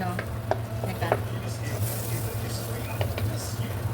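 Butter sizzles steadily in a pan over low heat, a soft continuous crackle with a low hum underneath and a few faint clinks of stirring.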